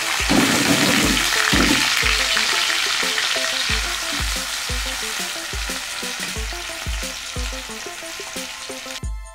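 Chopped onions and green chillies sizzle loudly in hot ghee, a dense continuous frying hiss close by with a steady rhythmic stirring clatter underneath, cutting off abruptly at the end; no one speaks.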